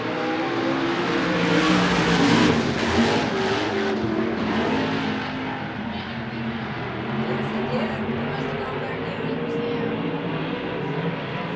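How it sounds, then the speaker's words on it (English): USAC/CRA sprint cars race at Phoenix, a loud sustained roar of engines passing close and blending into a continuous drone, with a commentator talking over it. "USAC CRA sprint cars, it is showtime!"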